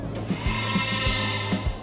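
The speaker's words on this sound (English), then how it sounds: "we've got a sheep stuck down a well over here" A sheep stuck down a well bleats on a ride in Planet Coaster 2, a few brief wavering calls spaced apart over a constant low background drone, with no talking.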